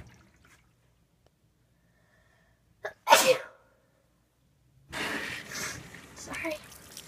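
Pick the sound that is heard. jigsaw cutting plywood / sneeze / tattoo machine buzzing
sneeze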